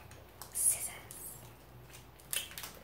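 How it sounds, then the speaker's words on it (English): Scissors snip open a snack package: two crisp close cuts with crinkly plastic rustle between them, quiet room with a faint voice in the background. "Scissors."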